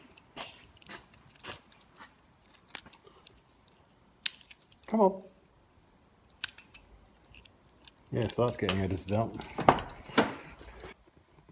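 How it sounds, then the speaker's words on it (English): Car keys jangle in a few short metallic bursts, with a louder rattling stretch toward the end, near and moderately loud, while people talk briefly in between, during work on supercharging a first-generation Mazda MX-5 Miata. "So let's grab the keys."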